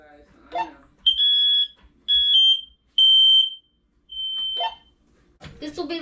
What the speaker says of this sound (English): This will be the smoke alarm in my bedroom.